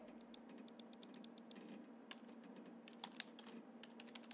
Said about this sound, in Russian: Клавиатура.